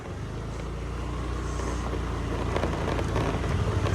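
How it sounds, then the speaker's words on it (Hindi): A scooter rides along the beach in South Goa, with a steady engine drone and heavy wind rumble buffeting the microphone throughout, loud and continuous with no talking. "समंदर किनारे किनारे ऐसे स्कूटर चलाना इज़ लाइक वाओ"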